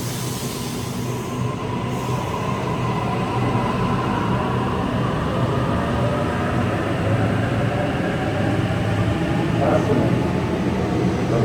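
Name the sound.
Sydney train departing Campsie station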